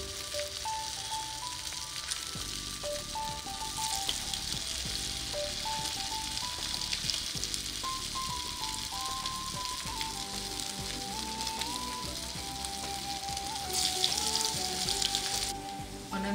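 Thick round aloo tikki potato patties fry in oil, a steady crackling sizzle that persists throughout and swells briefly near the end, with light music in the background.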